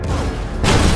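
A tank cannon shot in the Armored Warfare video game, one heavy boom rolling into a loud, sustained blast that lasts about half a second, close and full.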